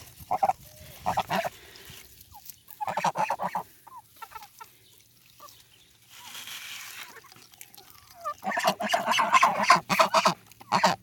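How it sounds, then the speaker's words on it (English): Geese honk and cackle in loud bursts nearby, calling in clusters with quiet pauses between, no talking. "One of our geese."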